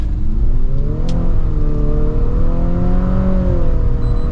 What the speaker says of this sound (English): And then we'll put it into sport mode here and give it an acceleration.